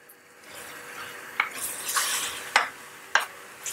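Tomatoes fry in a pan for dum keema, a soft sizzle punctuated by three or four sharp clinks and scrapes of a spoon stirring against metal, close and fairly loud.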